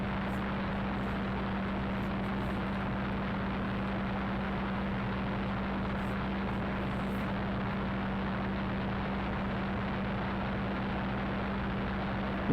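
A Spitfire fighter aircraft makes a high-speed pass, heard as a loud, unbroken engine drone with a steady low hum running underneath at constant intensity throughout.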